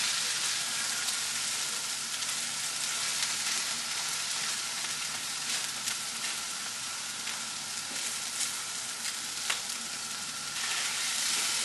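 Eggs with yellow chives frying in a pan, a steady dense sizzle and crackle running unbroken throughout with no voices.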